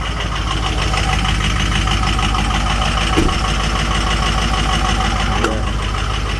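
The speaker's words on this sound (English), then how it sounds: "So I'm actually surprised she sounds so rough." A Jeep Grand Cherokee WJ engine idles rough while still cold, a loud, steady, close low drone with a continuous uneven throb and a couple of small clicks.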